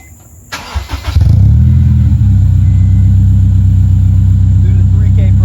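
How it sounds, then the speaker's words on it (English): Honda S2000 with an Invidia N1 catback exhaust starting warm: a short crank, then the engine catches and settles into a loud, close, steady idle rumble; a voice is briefly heard under the engine noise. "Warm start and revs."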